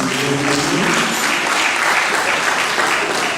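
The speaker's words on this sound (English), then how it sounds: "Shall we give the woman of God a round of applause" Steady, dense applause from a wedding congregation at a church-style celebration, loud and continuous throughout with no break.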